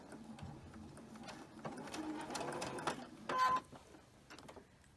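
A sewing machine runs in short stitching bursts as quilt blocks are joined, with a brief louder whir partway through and quiet pauses between runs.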